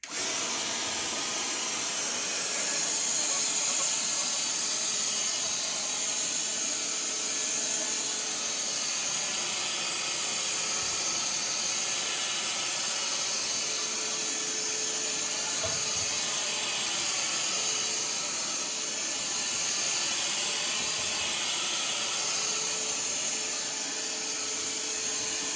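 A Ridgid 18V compact vacuum, model R860902B running on a 6 amp-hour battery, whooshes with a steady loud airy hiss as it sucks up sheetrock dust and sawdust, with faint bumps from the nozzle.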